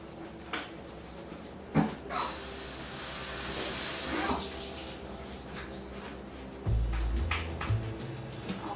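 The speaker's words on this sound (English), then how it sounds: "So I'm just gonna rinse them off" Running tap water rinses fresh red strawberries in a kitchen, a close hissing gush lasting about two seconds, framed by soft handling clatter and a few bumps afterward.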